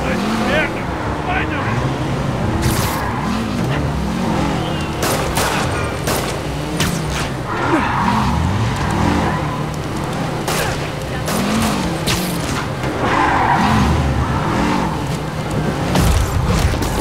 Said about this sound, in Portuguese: Só preciso parar aquele carro.